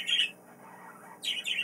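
Birds squawk loudly outdoors in two bursts, one at the start and another near the end, with a quieter stretch between and no one talking.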